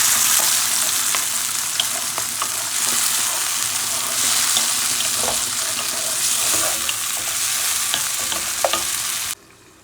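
Diced tomatoes tip into a hot pan and fry with a steady, close sizzle and crackle, light stirring scrapes on top, until the sound cuts off abruptly near the end.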